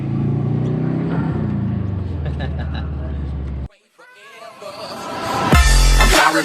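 A car's engine drones steadily, then cuts out abruptly for a gear change before revving back up, rising in pitch and growing louder toward the end.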